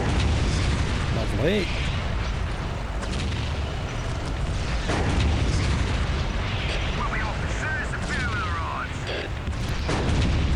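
Long-range cannon fire and explosions rumble through a Dawn of War: Dark Crusade battle with Imperial Guard forces, a dense continuous barrage of booms with a brief spoken remark over it.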